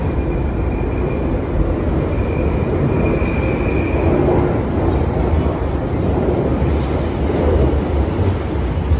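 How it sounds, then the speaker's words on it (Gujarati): A London Underground train rolls into a station platform with a loud, continuous low rumble and rail noise that lasts throughout, steady and close, with a faint tonal whine from the train partway through. "કોઈ ટ્રેન આવે જો"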